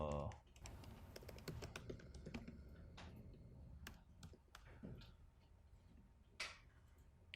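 Rapid keystrokes on a computer keyboard during a smart-contract coding session, a close run of clicking taps with brief pauses, steady and moderately loud in a quiet room.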